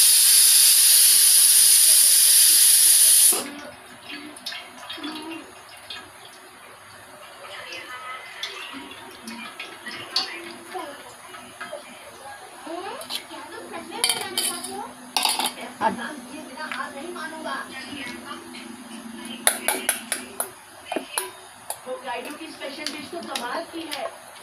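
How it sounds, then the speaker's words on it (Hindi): Soaked tamarind water is poured through a strainer into a pot for a sweet-and-sour chutney, a loud rushing pour at the start giving way to clinking utensils while someone talks. "अब मैं इसको ये बर्तन में छान लेती हूँ"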